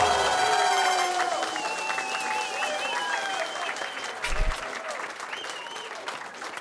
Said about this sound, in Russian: Оскар Ильясов, ваши аплодисменты!